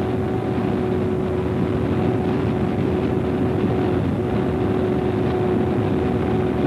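A Martini Porsche 936 race car at Le Mans in 1977, heard onboard at full throttle through a fast corner, produces a constant loud, droning engine roar with a steady tone and no break.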